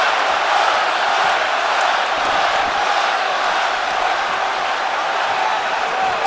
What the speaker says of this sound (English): Testy Vegas crowd here